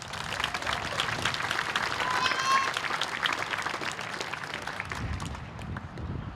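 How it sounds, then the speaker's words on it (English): Applause from participants at a Relay for Life cancer fundraising event, a moderate, fairly distant patter of clapping that holds across the stretch, with voices and crowd murmur mixed in. "So give yourselves a round of applause."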